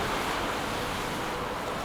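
Sea waves breaking steadily on a beach at Southbourne, a loud continuous roar of surf with wind rushing across the microphone, close and unbroken with no voices.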